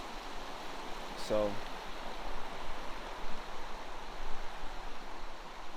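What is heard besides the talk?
flowing clear stream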